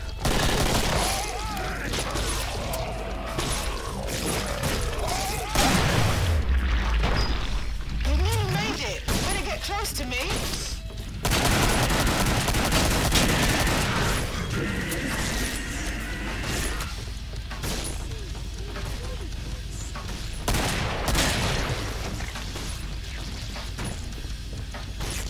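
Gunfire fills a round of the video game Killing Floor on a farm map: dense bursts of shots and mechanical clatter run nearly nonstop, with a player talking over the action.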